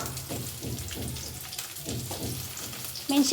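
Garlic, ginger, tomato and green chili fry in a pan for an egg curry, giving a steady close sizzle with rhythmic stirring scrapes throughout and a brief louder clatter at the end.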